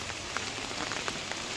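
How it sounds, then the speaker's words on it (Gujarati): Steady rain falls at night on a dark road, a dense even hiss with scattered sharper drops tapping now and then, continuous and moderately close with no voices. "વરસાદ થઈ રહ્યો છે."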